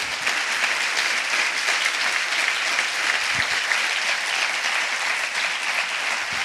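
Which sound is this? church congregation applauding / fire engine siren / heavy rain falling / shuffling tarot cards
church congregation applauding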